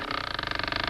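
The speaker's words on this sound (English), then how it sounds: "Somebody's opening the door." A cartoon door creaks open in one long, rapidly pulsing groan inside a sagging, weather-beaten old house, loud and close, with no voices over it.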